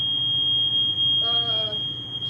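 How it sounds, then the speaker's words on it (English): A smoke alarm goes off in a kitchen while a cast iron skillet is in use, beeping as a steady high electronic tone with a brief warbling squeal partway through, over low background hum. "As you see the alarm's going off, y'all."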